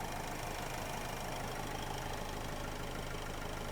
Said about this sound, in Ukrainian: Робота мотора просто відмінна, зараз можуть включитися вентилятори.